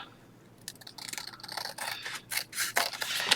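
Scissors trim the bottom edge off folded material, a run of crisp snipping and cutting strokes that grow louder and closer toward the end, with no talking.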